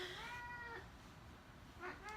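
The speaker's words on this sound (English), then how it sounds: "the cat making that noise" Two house cats wrestle on the floor, and one lets out a drawn-out, wavering meow followed by a shorter one a second later. Both are quiet and sit over low background noise.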